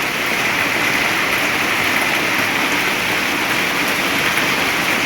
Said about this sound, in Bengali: ভীষণ বৃষ্টি পড়ছে দেখতেই পাচ্ছ